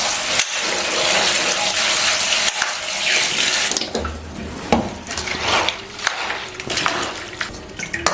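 Cabbage is washed under a running kitchen tap, a steady loud gush of water that stops partway through, followed by scattered splashes, drips and light clatter of the leaves and bowl.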